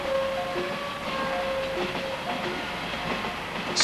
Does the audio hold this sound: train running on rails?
yes